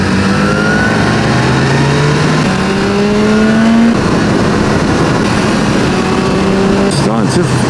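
A BMW S1000R motorcycle engine while riding over the Ofenpass, loud and close, its pitch climbing steadily through several gears with clear shift drops, amid heavy wind rush.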